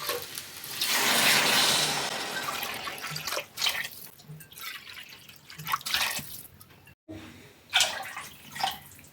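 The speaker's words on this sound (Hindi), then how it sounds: "तो ये 10 कटोरे मैंने पानी डाल दिए हैं" Water is poured from a bowl into a pot of khichdi, several separate splashing pours with short pauses between them, close by and without speech.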